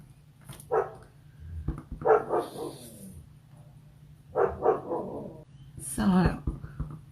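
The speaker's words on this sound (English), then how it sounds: "There's my dog, I'm sorry." A dog indoors barks in a few short bursts with soft whimpering between them, close by and fairly loud against a quiet room with a low steady hum.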